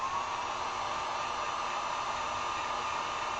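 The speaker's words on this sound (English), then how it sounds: "I'm going to have to hit with the heat gun for just 1 second" A heat gun blowing over acrylic paint on a candy corn sign, giving a steady, close, continuous whooshing roar that lasts throughout, with no talking.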